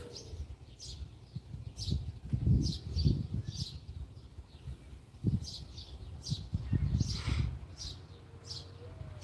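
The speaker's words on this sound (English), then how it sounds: "The sounds of the birds in the background are so nice." Birds chirp in short, scattered bursts outdoors near a front porch, moderately faint over low background rumble and occasional soft bumps.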